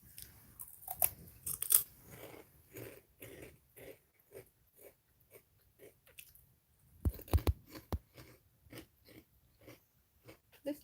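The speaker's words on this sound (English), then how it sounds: "You're not doing anything but chewing." Someone chews food close to the microphone in quiet, rhythmic crunchy bites, with a few louder bursts in between and no talking.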